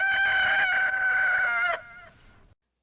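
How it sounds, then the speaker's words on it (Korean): A single rooster crows loudly and close in a mountain valley, one long drawn-out call lasting under two seconds before it cuts off into a faint fading tail and silence. "두 번째 닭 울음이 산골짜기에 울려 퍼졌습니다."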